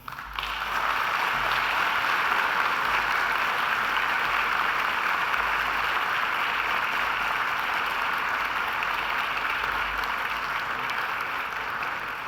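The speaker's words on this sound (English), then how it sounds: "And now I invite you to give them a mighty round of applause." Graduation ceremony audience giving new graduates a big round of applause, a dense, steady roar of clapping that holds loud and even for the whole stretch with no voices over it.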